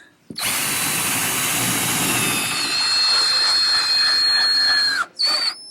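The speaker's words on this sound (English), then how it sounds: "Now here I'm pre-drilling and countersinking for the screws." A power drill whines at high speed for several seconds, its pitch shifting as it pre-drills and countersinks screw holes in wood, then stops and briefly restarts.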